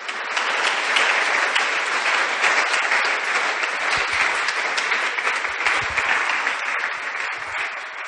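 A church congregation gives a dense, sustained round of applause during a sermon, loud and even from start to finish.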